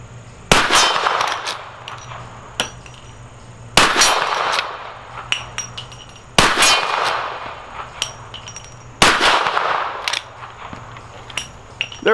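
Four loud, close shots of .44 Magnum rounds from an R92 lever-action rifle aimed at a steel silhouette target, each sharp crack followed by a long ringing decay, spaced roughly two to three seconds apart with no talk.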